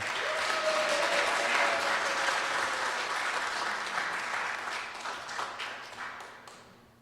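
An audience applauds the sound-effects and music man at a live radio-style show, a sustained wash of clapping that gradually fades out toward the end.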